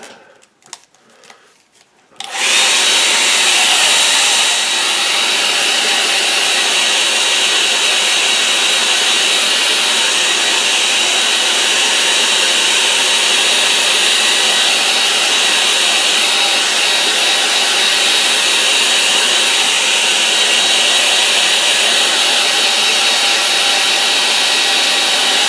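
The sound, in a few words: drying a watercolour painting with a dryer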